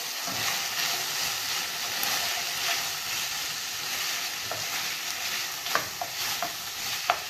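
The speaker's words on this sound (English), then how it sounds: "So we add our onions and we continue frying." Onions fry with garlic in a pot as the base for a brown beef stew, giving a steady close sizzle with occasional stirring knocks and clinks near the end.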